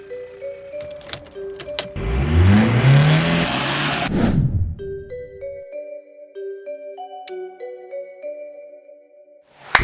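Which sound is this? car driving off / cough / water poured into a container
car driving off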